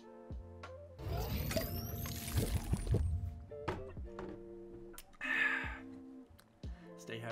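Water splashes and pours noisily for a couple of seconds, followed by a brief gurgle and a few thuds, with music playing in the background.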